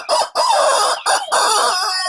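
A chicken clucks and crows loudly and close up in a series of harsh, strained bursts with brief gaps between them, and no talking.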